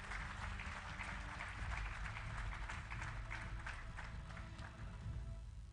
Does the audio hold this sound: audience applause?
yes